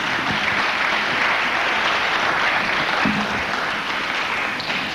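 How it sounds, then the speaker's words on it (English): Sustained applause from a lecture audience after a talk on the Songhai Empire, a dense, even wash of clapping at a steady level throughout. "Let's give him another round of applause."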